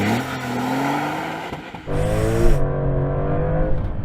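Porsche 911 Turbo S launching hard in a 0 to 60 test, engine rising through gears with a brief dip at a shift, loud and close, with a slight tyre squeal on cold tyres.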